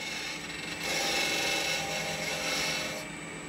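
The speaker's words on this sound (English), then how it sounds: "I'm using the same one-handed pointer grip on the parting tool with the caliper in my left hand, and I part until it just slips over the wood" A parting tool cutting into a wood spindle on a lathe, a steady scraping, rasping whir with a brief louder stretch in the middle, no talk.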